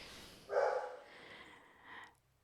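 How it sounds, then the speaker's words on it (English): A dog barks once, far off and fairly faint, in a quiet indoor room, with a softer trailing yelp after it. "Can y'all hear my dog?"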